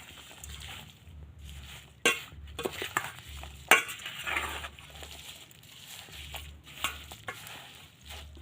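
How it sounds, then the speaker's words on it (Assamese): A spoon scrapes and stirs through a thick red chilli pickle mixture in a pan, with irregular clinks and scrapes, a couple of sharper knocks, and faint sizzling underneath. "এতিয়া এইখিনি ভালদৰে মিক্স কৰি ল'ম"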